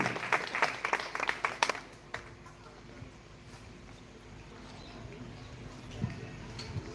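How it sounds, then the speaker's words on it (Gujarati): A village crowd at an Independence Day gathering claps in a brief burst of applause that fades after about two seconds, leaving quiet outdoor background. "જોરદાર આપણે તાળીઓથી વધાવી લઈશું"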